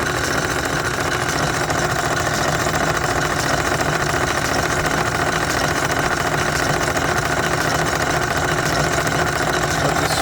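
A Craftsman 109 lathe runs continuously, a steady close mechanical whir and rattle that holds even in level throughout.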